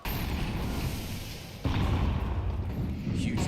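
A grenade goes off in Counter-Strike during a live esports match, heard as a sudden louder burst of rumble about halfway through, sitting within dense continuous game noise.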